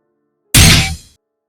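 A single sharp crack from a captive bolt pistol firing into a woman's forehead, loud and close, with a brief rumbling tail that fades within half a second, heard alone without talk.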